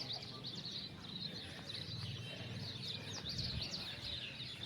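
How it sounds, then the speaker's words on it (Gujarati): Pigeons and other birds perched around a village farm in the morning, with soft, busy chirping and calling that continues throughout at a low, distant level. "બાકી આ બાજુ જો પક્ષીઓ બેઠા છે, એ કબૂતર ને બેઠા છે બધા"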